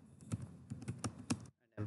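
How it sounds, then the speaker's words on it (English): Keystrokes on a computer keyboard entering a command at a CentOS 7 Linux terminal, a quick irregular burst of close, crisp clicks lasting about a second and a half, then a brief pause before another key press. "now type virtuoso"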